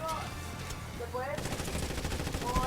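Gunfire in the mobile shooter Blitz Brigade, fairly quiet rapid automatic fire running under game effects and music-like tones, growing denser in the second half.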